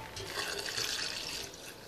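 A litre of water is poured onto ginger and other drink ingredients, giving a close, steady splashing pour that rises and fades over about two seconds.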